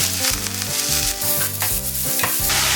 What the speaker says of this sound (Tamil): எண்ணெய் காஞ்சிருச்சு கடுகு போட்டுக்கலாம் வெங்காயம் போட்டுக்கலாம்